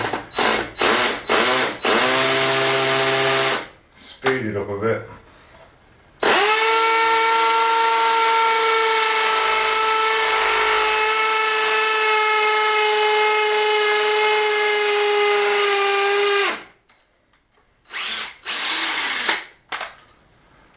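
A cordless drill driving screws during a home restoration project: a few short trigger bursts, then a long steady high whine lasting about ten seconds, then more brief bursts, loud and close with no talk.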